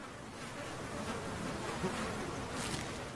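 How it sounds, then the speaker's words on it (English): Swarms of mosquitoes hatched on thawing Alaskan tundra make a steady, dense insect buzz that fills the air evenly throughout, with no voices. "The air is now clouded by buzzing swarms of bloodsuckers."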